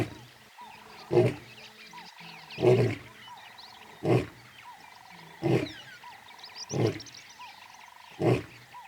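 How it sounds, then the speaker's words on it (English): A male lion gives a series of deep, bellowing roar pulses, about six evenly spaced bursts close by, with frogs or insects calling faintly in the background. "He announces his presence with a bellowing roar, which can be heard for up to 8 kilometers"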